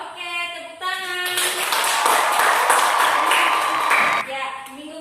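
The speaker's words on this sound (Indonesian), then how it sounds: "Oke, tepuk tangan." A classroom of students clapping together in a brief burst of applause, loud and dense for a few seconds, with a teacher's voice heard before and after.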